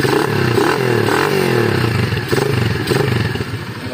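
A silenced Honda TMX 155 motorcycle engine, built as a streetbike concept, revs up and down up close, loud and steady with a throaty, rasping drone and a slight clatter, running continuously without any voices.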